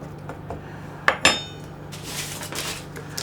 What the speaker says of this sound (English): Get a fork out. I'm just going to prick the base